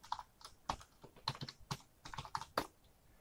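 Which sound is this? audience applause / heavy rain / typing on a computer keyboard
typing on a computer keyboard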